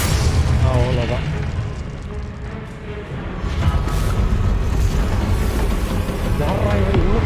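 Booming blasts from the Confringo explosion spell in Hogwarts Legacy, with loud low rumbling bursts that recur across the clip amid battle noise, while someone shouts spell names over the top.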